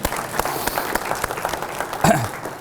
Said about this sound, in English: Give him a round of applause, yeah